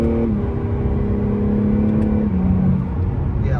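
Acura NSX hybrid in Sport Plus mode revving hard, a steady loud engine drone with a rising then dropping pitch step partway through, continuous and close with no talking.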